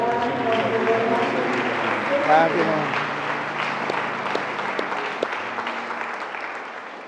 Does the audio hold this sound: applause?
yes